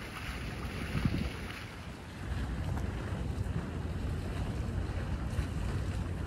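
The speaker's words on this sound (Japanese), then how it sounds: "少し風が吹いていて" Wind gusting through a city park with flower beds and a fountain, a broad, steady rushing roar that buffets the microphone throughout, loud and close with no voices.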